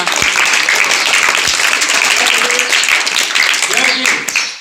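An audience at a school science quiz contest claps in sustained applause throughout, loud and steady, with some voices talking over it.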